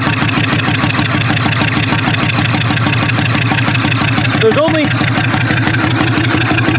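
A Toyota Camry wagon engine without spark plugs cranks over on one cylinder, a loud steady rhythmic chugging throughout, with a brief voice in the middle.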